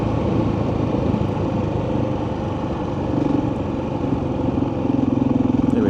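A KTM 690 motorcycle engine runs steadily at close range, a loud continuous single-cylinder drone with mechanical clatter, and the throttle lifts slightly toward the end.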